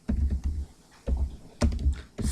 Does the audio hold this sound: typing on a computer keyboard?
yes